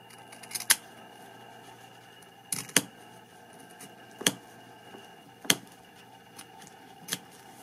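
Scissors or a blade snipping through replacement cloth on a pool table rail, cut at the angle of the rail facing: a handful of sharp, crisp clicks spaced a second or so apart over a quiet room background.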